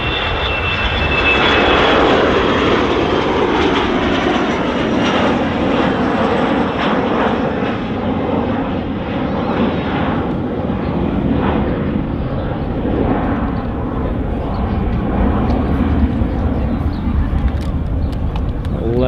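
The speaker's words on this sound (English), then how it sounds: "Legacy in the Airborne, which is a BizJet version of the Embraer 145 airliner" An Embraer Legacy business jet, the bizjet version of the Embraer 145, at Manchester Airport gives off a loud, steady broadband engine roar with a faint whine, holding throughout at close to moderate distance.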